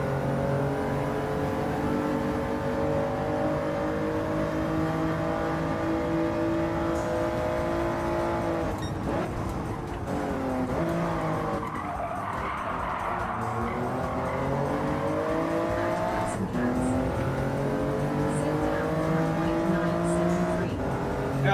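Ferrari 458 engine in a racing video game, a sustained loud engine drone with shifting revs and a brief dip midway, running steadily throughout with faint tire squeal and a voice talking over it.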